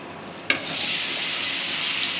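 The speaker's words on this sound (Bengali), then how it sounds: "মরিচের গুঁড়া আর হলুদের গুঁড়াটা একটু ভেজে নিচ্ছি" Chili and turmeric powder hit hot oil in a pan for a kochur loti dish. A sudden burst of sizzle settles into a steady, close frying hiss that continues on its own.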